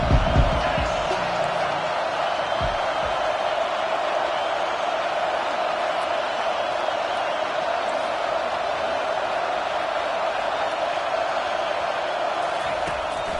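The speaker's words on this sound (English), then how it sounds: "how nice is it to have the home crowd going absolutely bananas?" A home crowd at a football game roars in a steady, dense wall of cheering that holds loud throughout, with broadband noise and no clear breaks.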